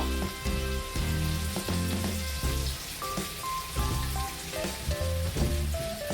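Washed drumstick flowers hit a pan of fried potatoes and hot oil, giving a loud, steady crackling sizzle broken by repeated spatula stirs.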